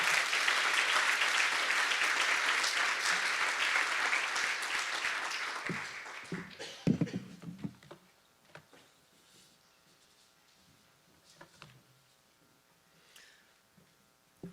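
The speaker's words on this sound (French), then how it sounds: "je pense qu'on peut lui faire une belle main d'applaudissements" An audience claps loudly and steadily for about six seconds at a French-language event, then the applause thins into scattered claps and fades, leaving quiet shuffling and a few faint knocks.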